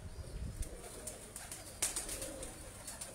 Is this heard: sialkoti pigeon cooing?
yes